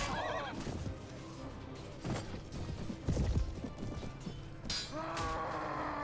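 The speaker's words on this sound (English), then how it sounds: "Oh no, my horse! It's crippled!" A horse in the video game Mount & Blade: Warband, modded as Prophesy of Pendor 3.8, neighs loudly at the start and again near the end, amid battle clatter and hoofbeats, with game sounds throughout.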